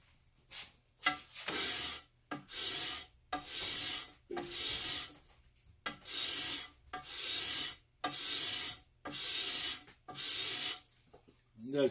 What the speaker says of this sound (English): I'm just taking these burrs off from where it went through the G-pin.